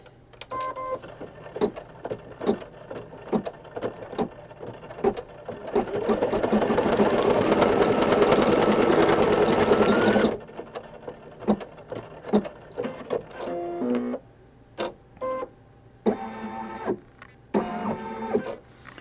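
Embroidery machine stitching a run on fabric for a Valentine hug rug, a rapid rhythmic whirring burst in the middle set between short mechanical clicks and jerky motor movements.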